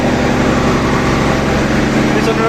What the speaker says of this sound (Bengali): তরঙ্গ ৭-এর ইঞ্জিন রুম